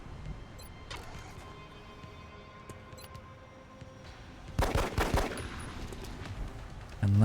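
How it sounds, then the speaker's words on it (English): Gunfire from a carbine and a pistol in the turn-based strategy game XCOM Long War, a burst of several sharp shots around the middle, loud against a quiet background hum. "Shoot with the carbine first, just in case it can kill."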